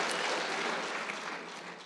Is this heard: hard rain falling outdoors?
no